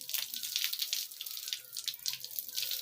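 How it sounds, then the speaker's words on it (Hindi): Water poured from a jug over the head while washing the hair, a continuous close splashing and trickling with uneven bursts throughout. "आप जग में पानी लेकर सर को अच्छी तरीके से धोएं"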